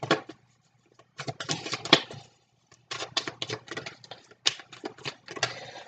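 Tarot cards handled and shuffled close by, giving bursts of crisp papery riffling and soft slaps in quick runs, separated by short pauses, with no voices.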